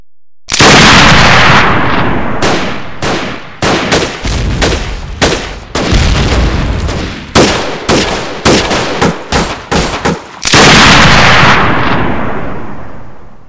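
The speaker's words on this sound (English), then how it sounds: "There was a massive attack of cannon and rifle fire." Heavy rifle fire and cannon booms crash in a rapid, dense barrage, loud and continuous with overlapping blasts and rolling echoes, depicting the 1862 Battle of Antietam.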